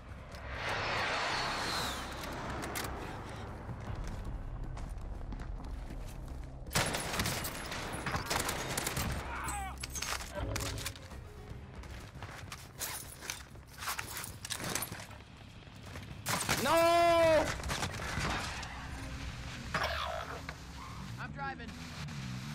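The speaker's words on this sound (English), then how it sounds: "This dude has a pistol trying to shoot at me." Pistol and other gunfire crackle in a video game shooter, with scattered shots and short bursts at varying distances, along with footsteps and game noise throughout.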